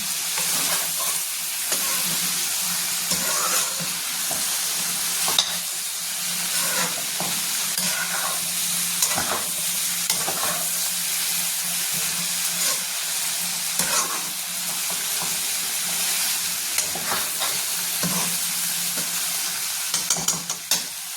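Mixed vegetables frying in a pan crackle with a steady sizzle while a utensil stirs them, scraping and clinking every second or so, close by and continuing throughout with no voices.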